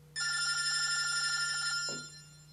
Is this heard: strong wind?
no